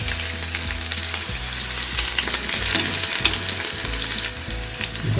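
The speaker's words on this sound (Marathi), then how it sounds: "कढईत आपले इकडे मस्त तेल चांगलं तापलं आहे आणि त्यामध्ये आता किती आहे लसूण आणि थोडा कांदा" Loud, steady sizzling of garlic and onion frying in hot oil in a wok, with a continuous crackle and occasional stirring noises close by.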